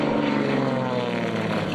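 A propeller airplane flying aerobatics at an air show, including loops and aileron rolls, drones loudly and steadily with a buzzing engine tone throughout.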